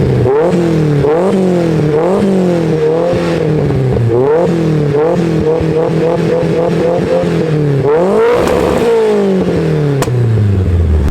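A Mazda Miata with an SR20 engine and a new exhaust runs loud and close, revving up and down repeatedly with a throaty, rattly exhaust note.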